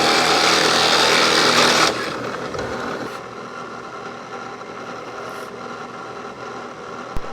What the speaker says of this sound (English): I'm golden to just drill.